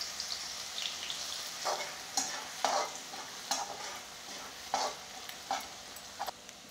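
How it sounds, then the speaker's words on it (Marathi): Garlic sizzles softly in hot oil in a pan, with a steady frying hiss broken by a series of sharp scraping stirs from a spoon, close and with no talking. "तेल तापलेलं आहे, आधी आपल्याला लसूण घालून घ्यायचं आहे."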